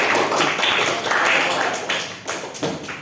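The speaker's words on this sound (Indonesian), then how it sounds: "Tepuk tangan untuk Mbak Niken" A class of students applauds a classmate in an Islamic religious education lesson, a close, dense patter of many hands clapping steadily for about three seconds with a few sharper slaps near the end.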